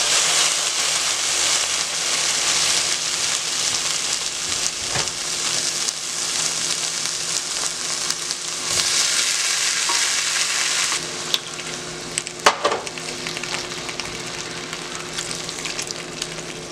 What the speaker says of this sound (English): I'm going to add my tomatoes and veggie stock, and I'm gonna let that simmer after I add those